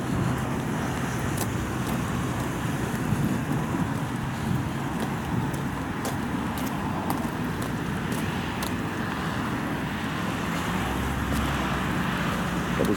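A city bus pulls away from a stop in Gdańsk's Czarny Dwór area with a steady, loud rumble of engine and road noise throughout, mixed with general traffic. No speech.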